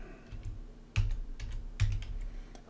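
Keys on a computer keyboard are typed in a short, uneven run of soft clicks close up, with two louder keystrokes standing out.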